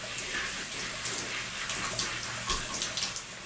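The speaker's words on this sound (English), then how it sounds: "I like to use warm water and just really scrub my scalp to try to get everything loose." Warm water runs steadily from a tap during a curly-hair wash while the scalp is scrubbed, a close, continuous splashing rush with no talking.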